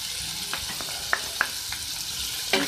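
Chopped onions frying in a pan with turmeric, a soft even sizzle close by, broken by a few light taps and scrapes of a spoon.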